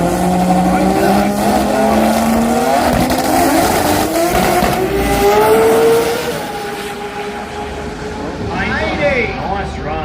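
A Pro Turbo drag racing car makes a run at a drag strip event, its engine roaring loud and sustained as the pitch climbs, then dropping away. An announcer talks over it.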